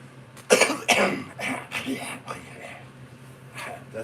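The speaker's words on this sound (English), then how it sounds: "That was a fake cough, almost." A few short, forced coughs and throat-clearing bursts come in quick succession, close and moderately loud, trailing off into softer breathy sounds.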